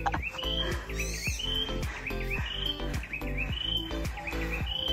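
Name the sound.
birds singing on mountain trail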